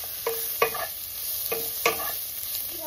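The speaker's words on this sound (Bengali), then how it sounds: "এটা একটু ভাজা করে নেবো, তারপরে দেবো অন্য কিছু।" Vegetables and egg frying in a pan, with several distinct scraping stir strokes over a faint steady sizzle, close and moderately quiet, with no talking.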